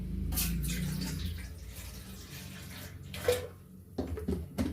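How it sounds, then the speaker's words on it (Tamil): Water poured from a tap or jug into a cooking pot on a stove, set up for steaming spicy semolina rolls; a steady, close gush runs for several seconds, then tapers into a few splashes and drips. "இதுக்கு தேவையான அளவு தண்ணி விடணும்."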